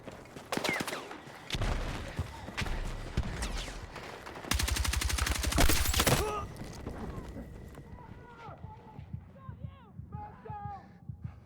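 Gunfire in a Battlefield multiplayer match: rapid bursts of automatic shots and a sustained stretch of fast firing, close and loud, with scattered distant pops and voices chattering in the background.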